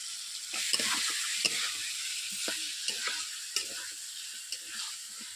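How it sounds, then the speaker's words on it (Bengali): Khamalu yam and potatoes fry in a spice paste in a pan, giving a steady close sizzle with scattered scraping stirs throughout and no talking. "মশলার মধ্যে দিয়ে আমি খামালুগুলোকে কষিয়ে নেব।"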